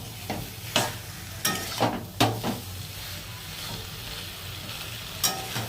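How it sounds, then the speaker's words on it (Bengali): Food is sautéed in a pan (kosha), a steady close sizzle broken by several sharp spatula scrapes and knocks at uneven intervals, with no talking. "ভালো করে কষবো।"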